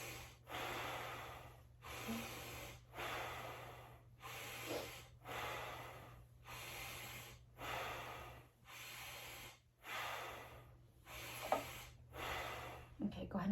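A patient takes deep, slow breaths for stethoscope auscultation, about seven regular cycles of hissy inhales and exhales separated by brief pauses, close and clear with a faint steady hum underneath.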